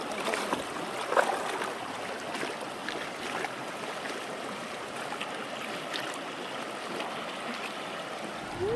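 Water in the Tropic Ditch, an 1800s irrigation channel dug by Mormon settlers near Bryce Canyon, flows with a steady, continuous rushing and gurgling that stays close and even throughout, with no talking.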